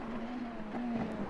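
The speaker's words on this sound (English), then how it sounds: "You can hear the car trying to break away there on John" Race car engine droning at Magny-Cours, France, as the car breaks away and four-wheel drifts into a braking zone; a steady, slightly wavering tonal whine, fairly faint and distant.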